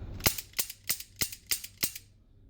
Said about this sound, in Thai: ลองใช้ลูกโม่ดูนะครับ ไม่มีกระสุนนะฮะ เราก็กด start อันนี้เราใช้ฟิก3วินะครับ เราก็จะยิง 5 นัด